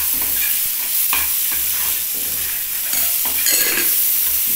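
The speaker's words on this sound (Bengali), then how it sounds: "এ দেখো তেলে দেওয়াতে এই ডিমটা আবার ফুলে উঠছে," Fish roe fritters fry in hot oil with a loud, continuous crackle, while repeated low knocks and scrapes from a utensil turning them give it an uneven rhythm.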